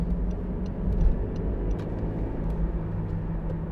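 A 2011 Honda CR-Z 1.5 IMA Sport three-door hybrid driving, a steady low engine and road rumble heard from inside the cabin, with faint ticking clicks above it and no talk.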